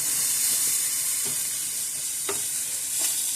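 Chicken and rice browning in a pan give off a steady close frying sizzle with a constant hiss, broken by a few soft scrapes and stirs, and no talking.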